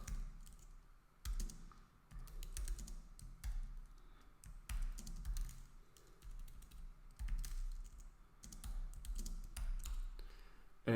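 Code is typed on a computer keyboard in quick irregular bursts of close key clicks, with short pauses between runs and no talking.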